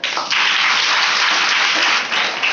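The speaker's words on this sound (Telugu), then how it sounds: "అందరూ ఒకసారి చప్పట్లు కొట్టండి." A church congregation at a fasting prayer meeting claps hands together, a loud, sustained burst of dense clapping filling the room for the whole stretch.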